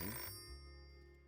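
A telephone rings in the Nine Noir Lives video game, a single short electronic ring that cuts off quickly and leaves a faint low hum.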